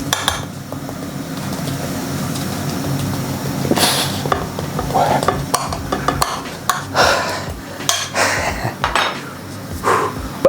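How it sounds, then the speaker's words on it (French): A spoon clatters and scrapes against a dish while food is mashed, with irregular sharp clinks and knocks of cutlery on crockery, loud and close over about ten seconds, without speech. "la cuillère, on va essayer d'écraser tout ça."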